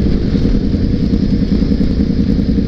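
Loud, close Yamaha R1 motorcycle engine running with a thick, steady, throbbing roar and no talk over it.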